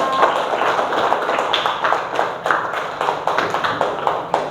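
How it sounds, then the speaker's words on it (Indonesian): A classroom of students claps for a student group after its presentation, a dense, steady patter of many hands lasting throughout with no break. "Ya, tepuk tangan dulu untuk kelompoknya Mbak Tasya."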